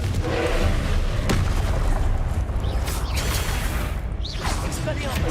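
A Confringo blasting spell explodes during combat in Hogwarts Legacy, giving low booming blasts and whooshes over dense rumbling action noise, with a voice calling out over it.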